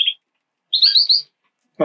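Birds in an indoor breeding room give short high chirps, one brief call followed by a quick series of bright tweets, close and clear, with a voice beginning at the end.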